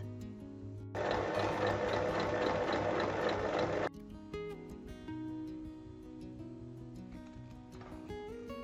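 A sewing machine stitches fabric for a small DIY coin purse in one steady, fairly loud run of about three seconds, its rapid needle rhythm close by, then stops, leaving quiet background music.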